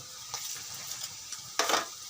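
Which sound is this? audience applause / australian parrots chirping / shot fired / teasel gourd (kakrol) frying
teasel gourd (kakrol) frying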